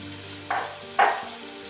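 Pancetta and vegetables in olive oil in a pot for beer cheese soup, a low steady sizzle broken by two short bursts of scraping and frying as the spoon stirs, close and fairly quiet with no talk.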